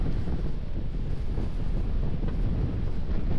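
Strong cold wind roars across the summit of Mount Pulag, a continuous dense buffeting rumble battering the microphone, loud and close for the whole stretch with no talking.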